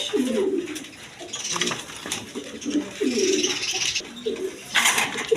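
Several Raj Golla pigeons, a big-sized breed, coo in repeated low throaty phrases close by, with faint background noise and no talk.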